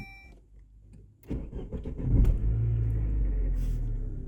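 A Saab 9-3 engine cranks and catches after a quiet moment, then settles into a loud, steady rumbling idle, heard close with no talk.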